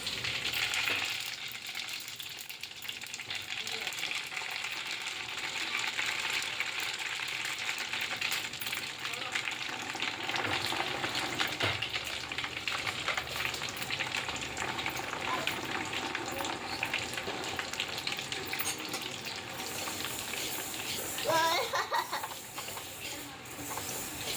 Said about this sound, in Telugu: వీటితో పాటు ఒక చేతి నిండా ఎల్లిపాయలు తీసుకొని దాంట్లో వేసుకొని వేయించుకోవాల్సి ఉంటుంది